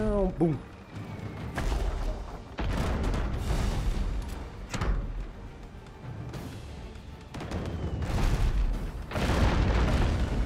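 Ships explode in the naval video game Abandon Ship, several heavy booming blasts landing one after another at irregular intervals, loud and close, with rumbling decay between hits.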